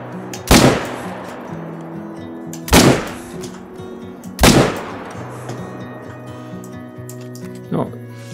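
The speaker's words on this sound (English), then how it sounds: "I think I'm gonna shoot this one first, and then let's just try to get as many down as we can" Three loud rifle shots boom in a hunting video game on the Vurhonga Savannah, spaced about two seconds apart, each with a long decaying tail, then a fainter fourth report near the end over steady background game ambience.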